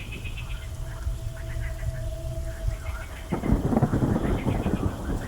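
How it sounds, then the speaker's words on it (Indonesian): A low rumble of thunder rolls beneath a thin steady hiss of light drizzle in a night forest, with a faint tonal hum at first; the rumble swells and grows heavier and closer toward the end. "dibarengi dengan gerimis hujan dan suara petir."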